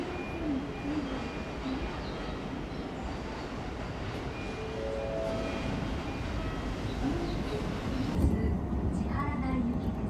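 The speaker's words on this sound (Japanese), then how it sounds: "1番線に電車が参ります。" KC Line commuter train pulling into a station platform, a steady rumbling roll with brief squealing tones from wheels or brakes, heard nearby and continuous, with muffled voices faint in the background.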